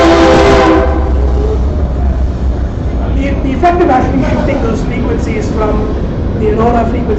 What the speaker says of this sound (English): At the frequency of the train, as you can imagine, its whistle is changing